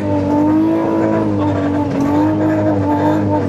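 A Suzuki Grand Escudo XL7 SUV grinds off-road in first gear, its engine a loud, steady, close drone that holds throughout with little change in pitch.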